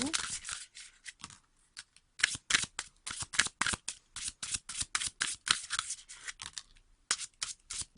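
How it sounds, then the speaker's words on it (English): Angel therapy cards are shuffled close up in rapid riffling bursts and flicks, with brief pauses between runs. "Let's get some angel therapy cards and see what the angels have in store for you."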